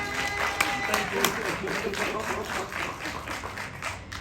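Steady applause from a town hall audience in Rockdale, dense broadband clapping that holds for several seconds with a few sharper claps standing out.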